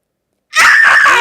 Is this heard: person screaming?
yes